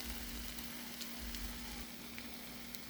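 Scrambled eggs sizzling in a pan on a stovetop, a faint steady crackling fry with a low hum beneath, no talking.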